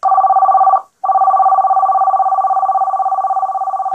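Novatel NVT1320 emergency phone from 1990 rings loudly with a rapid electronic warble, one brief break then a long continuous trill, close and clear with no one talking.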